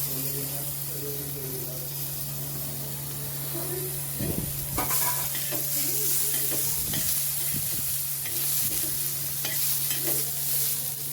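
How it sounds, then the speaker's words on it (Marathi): Tomatoes roasting in a pan on low flame for egg curry, a constant soft sizzle with repeated spoon scrapes and knocks as they are turned, while a person talks over it. "हे सगळं आपल्याला बारीक गॅसवरतीच भाजून घ्यायचंय"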